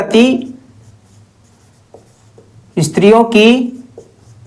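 Writing during a Class 10 Sanskrit lesson produces faint, brief scratching strokes in the pauses between a teacher's spoken explanation.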